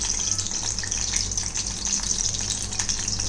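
Battered tomato pakora slipping into hot frying oil, a steady close hiss and bubbling sizzle running unbroken throughout.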